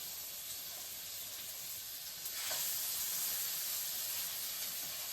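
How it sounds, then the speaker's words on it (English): Venison back straps sizzle in a preheated cast iron pan, a soft steady hiss of frying that swells briefly as meat is added midway, with no talk. "listen for that nice sizzle"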